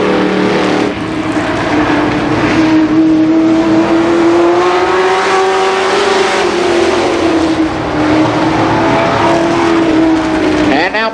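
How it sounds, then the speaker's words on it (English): Mini stock race cars at Columbus Motor Speedway in 1990, a loud, close engine wail rising and falling in pitch through a long pass, with other cars droning underneath and an announcer talking over it. "Justice way sideways in 1 and 2, but he holds on to it in that car number 29."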